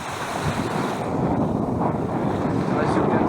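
Strong wind gusts across Balos beach on Crete, buffeting the microphone with heavy low rumbling and roaring, while surf washes in the background throughout.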